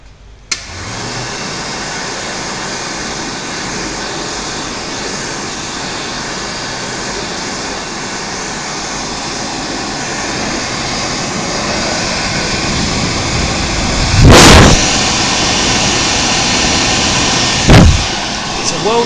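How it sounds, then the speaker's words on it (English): A World Dryer electric hand dryer, silver model, blows with a steady, loud broadband roar for nearly twenty seconds, with a couple of brief louder bursts near the end. "It's a world dryer."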